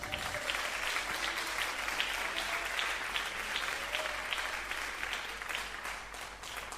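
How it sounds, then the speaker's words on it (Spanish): A church congregation at a Bible study on healing applauds in sustained, even applause, a dense wash of many hands that stays moderately loud throughout with no clear voices. "¿Quién da un aplauso al Señor?"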